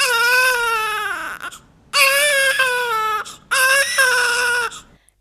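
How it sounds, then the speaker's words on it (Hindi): A newborn baby cries loudly in three strong, sustained bursts with brief gaps between them, close and clear with no other voices. "शिशु जोर से रोता है।"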